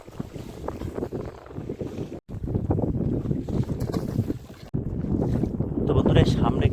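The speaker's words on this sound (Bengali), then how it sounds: "এই হাওয়ার জন্য আমাদের নৌকা পিছনের দিকে যাচ্ছে এখন।" Strong wind buffets a small fishing boat drifting on Sundarban water, a loud continuous roar of gusts against the microphone with rushing water and rocking hull beneath and a couple of brief dropouts.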